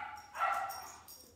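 A pet dog gives a single short, fairly faint bark or yip at home, heard alone against quiet room noise.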